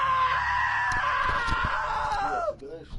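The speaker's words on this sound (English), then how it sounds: "Now that was a great scream." A loud, sustained scream in the video game What Remains of Edith Finch, holding steady for about two and a half seconds before breaking off, followed by brief clatter.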